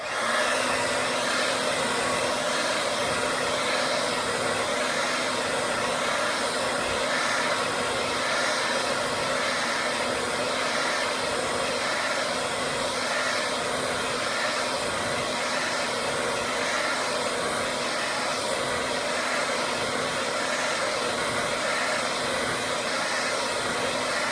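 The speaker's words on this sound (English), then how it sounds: "take the hairdryer and we're gonna keep going" A hair dryer blows steadily as it is swept side to side to heat material, a constant close whooshing hum with a faint whine, unbroken throughout.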